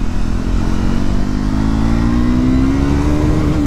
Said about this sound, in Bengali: আর এক্সস্টের সাউন্ডটাও ভাই মারাত্মক